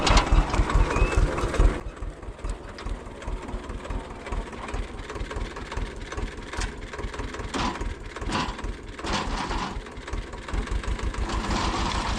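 A tractor engine running in a field, a heavy low rhythmic chugging that is loud at first and then settles into a steady idle-like throb.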